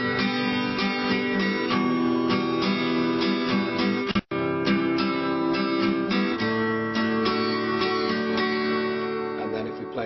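Acoustic guitar strummed in a steady, syncopated pattern that rings full and loud for about ten seconds, with one sudden brief dropout partway through and no voice.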